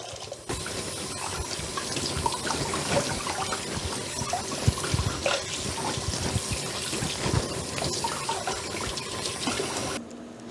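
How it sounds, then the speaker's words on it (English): Tap water runs steadily into a sink, splashing and trickling over beef and pork being rinsed, close and continuous with no talking. "I still wanted to rinse the meat well"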